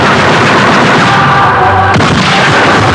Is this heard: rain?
no